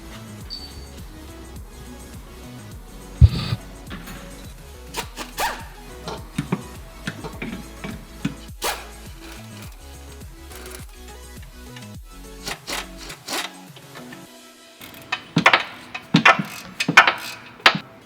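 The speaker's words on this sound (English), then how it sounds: "now we're going to remove all the nuts for the driver's side manifold" Nuts come off the driver's side exhaust manifold of a Lexus ISF with a wrench, heard as intermittent close ratchet clicks, metallic taps and rattling handling noises, busier toward the end.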